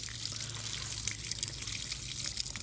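Water is poured steadily over a plant infested with mealybugs to wash the pests off, a close, continuous splashing trickle with no pauses and no voices.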